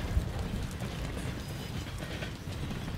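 A train in the Call of Duty: Vanguard game rumbles steadily along the rails, a dense continuous roll with faint rhythmic clatter throughout.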